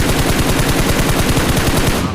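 Loud, rapid automatic gunfire rattles nonstop in a PUBG Mobile match, a dense burst of close shots that cuts off abruptly at the end.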